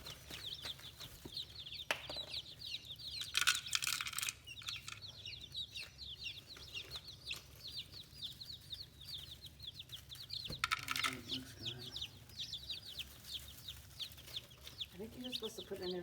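Newly arrived baby chicks peep in rapid, high, continuous chirps on a homestead, close and steady for the whole stretch, with a few louder rustling bursts and some quiet talk underneath.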